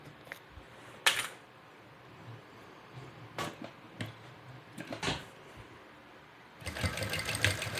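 A sewing machine tacks the seams of a hip bag in short, separate bursts of stitching, loud and close, with a longer run of stitching at the end.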